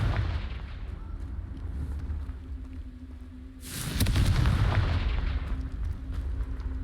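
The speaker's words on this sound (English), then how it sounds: "Confringo." A Confringo blasting spell explodes in the video game Hogwarts Legacy, a loud sudden burst partway through that rumbles on over steady game ambience, with no talking.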